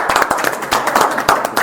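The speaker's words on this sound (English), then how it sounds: "So I think it's appropriate to give her a round of applause." Applause from a small crowd at a city council meeting in Vader, a brief burst of scattered, uneven hand claps that carries on steadily for under two seconds.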